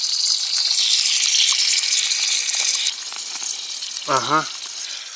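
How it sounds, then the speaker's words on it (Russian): A leaking household gas tap gives off a loud continuous sizzling hiss that cuts off abruptly partway through, leaving a quieter background before someone briefly speaks. "По-моему, это газовый кран. И что скворчит."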